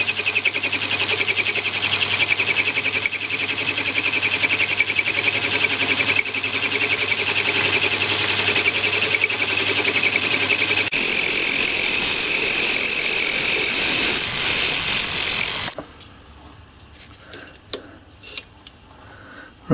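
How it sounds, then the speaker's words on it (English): A diamond dresser is touched against a grinding wheel on a metalworking setup, giving a loud, steady motor hum and grinding buzz for about fifteen seconds before cutting off to quiet with a few small clicks and knocks. "touch this diamond dresser on, and trill the wheel up down to that size"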